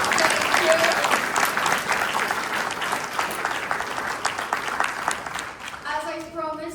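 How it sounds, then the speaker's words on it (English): Conference audience applauding at the opening of PAM Summit 2026: dense, sustained clapping from a large crowd fills the room, fading as a voice begins speaking near the end. "Round of applause for them maybe as well."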